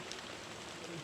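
Steady rain falling in Khao Sok, Thailand, a soft continuous hiss of drops on surfaces at low level, with no break across the whole short stretch.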